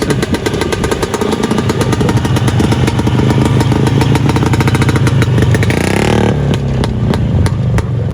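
A Russian motorcycle engine runs loud and close, rumbling steadily, then revs up briefly before settling into a rougher idle.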